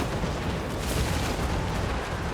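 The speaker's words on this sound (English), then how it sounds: "A little bit of grenade fire is going to see them off, though." Grenade fire in a Total War: Warhammer 2 battle: a dense, continuous rumble of blasts and roaring noise with no pauses, loud and close throughout.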